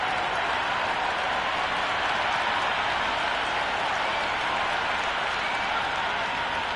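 A cricket video game crowd at a T20 match between Pattoki Warriors and Sydney Sixers roars and claps in a steady, dense wash of noise that never lets up.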